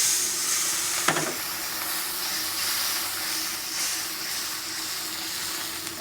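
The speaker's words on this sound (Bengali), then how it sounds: "পেঁয়াজটা ভাজা হয়ে আসছে" Onions frying in a pan with spices give a continuous, even hiss and sizzle, close by, with one brief clink early on and no speech over it.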